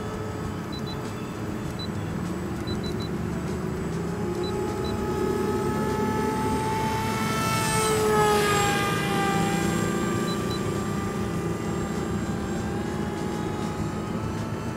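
A Sweep Wings Flinch 37-inch FPV wing flies with its propeller at low throttle. The buzzing drone rises as the wing passes close by and shifts in pitch, then eases off as it moves away.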